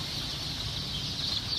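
Chickens at a poultry hatchery, including Dominique birds, cluck and murmur in a steady, close, continuous flock chatter with no voices over it.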